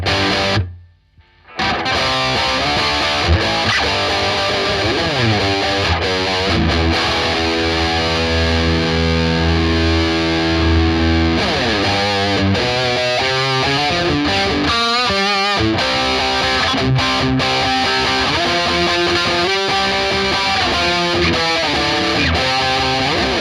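Electric guitar runs through an amp's drive channel, pushed by a boosted overdrive pedal, and rings out in thick, loud distorted chords and riffs for over twenty seconds after a brief gap near the start. No one speaks.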